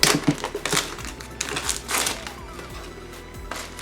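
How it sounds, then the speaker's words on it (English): Tough plastic earphone packaging is pried and cracked open with a screwdriver, giving a series of sharp crinkles, snaps and crunching bursts, loud and close. "I just grabbed a screwdriver to break the plastic."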